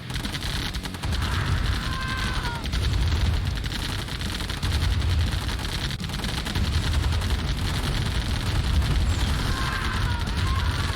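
Artillery fire in Command & Conquer Remastered, Nod versus Nod tournament match: a dense, steady wash of gunfire and booming shots running continuously throughout, loud and close.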